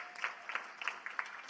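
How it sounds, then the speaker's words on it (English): At a political party committee meeting, scattered hand claps sound from a small audience, quiet and somewhat distant, with distinct individual claps standing out over a soft background. "Give this guy a huge round of applause"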